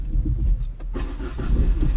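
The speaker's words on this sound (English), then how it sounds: "Start the car up." A car engine cranks and catches, then settles into a steady idle running close by, with no talk over it.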